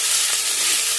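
Chopped onions fry over high heat in a thick pan for onion chutney, giving a steady, close, dense sizzle and hiss that runs unbroken throughout, with no voices.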